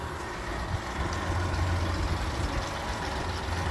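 A mid-1990s Honda 50hp in-line three-cylinder four-stroke outboard with three carburetors runs steadily at idle, a low continuous rumble with a slight throb, close and unbroken.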